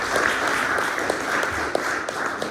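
An indoor audience at a tech meetup applauds steadily, dense clapping that stays even from start to end with no voice over it.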